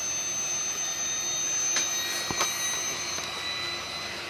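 The electric motor of a SkyRC 1/4 scale RC motorbike whines at a steady high pitch as its speed rises, with a controller board that seems faulty; close and fairly loud, with a couple of sharp clicks partway through.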